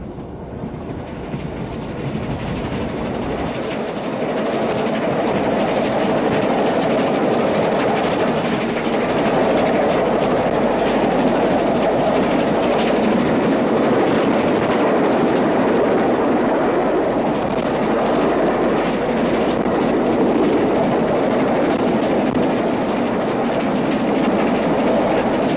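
The Bristolian, a 1950s express train booked to run at 100 miles an hour, makes a steady, loud, continuous roar with a broad rushing rumble and faint clatter sustained throughout.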